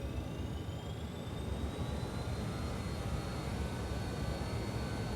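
A jet airliner's engines spooling up as the throttle advances to about 50% N1 in Microsoft Flight Simulator 2024: a steady, broad roar with a thin whine climbing slowly in pitch, heard alone at an even level throughout.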